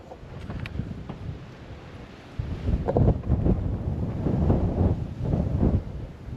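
Wind buffeting a GoPro microphone fitted with a wind buffer on a 4x4 Suburban trip in the Corona, California hills, a low rumbling roar that swells louder partway through and keeps gusting.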